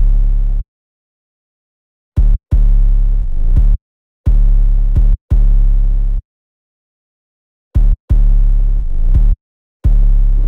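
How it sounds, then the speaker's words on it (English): Deep sustained 808 bass notes from an FL Studio beat in a trap production, playing loud in separate gliding bursts with long silent gaps between them, no other instruments or voices. "I added the 808, and that sounds like this."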